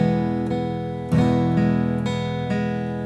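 Guitar strings picked individually over a held chord, a firmer strum in the middle, notes ringing into each other at a slow, even pace.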